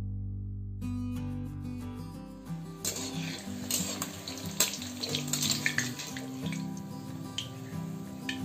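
Jackfruit manchurian balls fry in a pan of hot oil, giving a steady crackling sizzle that rises after a quieter start. The frying stays fairly soft throughout, with faint tonal background sounds.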